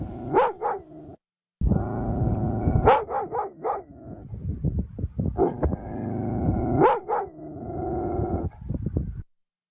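Dog barking near a roadwork sign in a neighborhood, a series of loud gruff barks and growly woofs in two bursts with a brief pause, close and with no talk over it.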